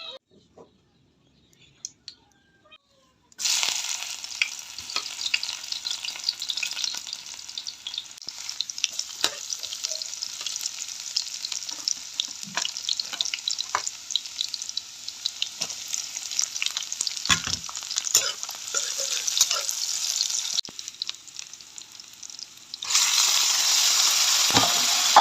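Aromatics and chili sautéing in a pan for squid adobo, a steady loud sizzle with scattered stirring clicks, starting abruptly after a quiet opening and growing brighter near the end.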